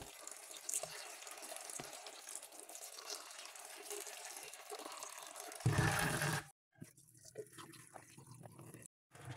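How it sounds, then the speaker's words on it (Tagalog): Soaked mung bean sprouts are rinsed in water by hand, a continuous watery swishing and trickling with a louder splash and stir near the end, followed by brief silences. "Kapag naalis na nga ang tubig ay hugasan lang natin maigi tas ise-set aside na natin."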